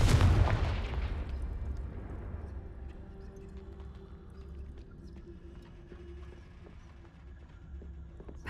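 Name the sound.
Confringo blasting spell cast in the video game Hogwarts Legacy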